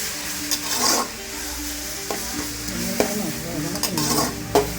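Spices sizzle and crackle steadily in hot oil, tempering for turkey biryani, with occasional scraping stirs of a spoon against the pan, close and continuous.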